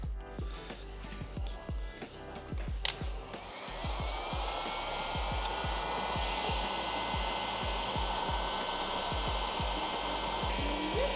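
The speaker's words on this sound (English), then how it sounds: "Ooh, that's a heat gun. Yep, I'm shrinking it right now" A heat gun roars steadily while shrinking heat-shrink tubing on a custom mil-spec wiring harness for a WRX drag build, preceded by scattered clicks and handling knocks, then a constant loud blowing whoosh.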